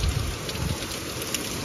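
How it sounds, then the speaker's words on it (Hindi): Dense, steady rain pouring down close by, a continuous hissing wash with scattered heavier drops and no voices. "वाओ देखो बारिश भयंकर हो रही है"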